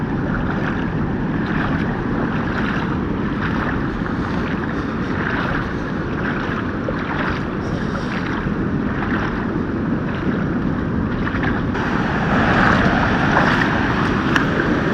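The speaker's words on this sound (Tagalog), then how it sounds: "Laki ng alon." Big waves surging around a boat near a sandbar off Bolinao, Pangasinan, with a steady roar of water and wind buffeting the microphone, rhythmic swells rising every second or two, loud and close throughout.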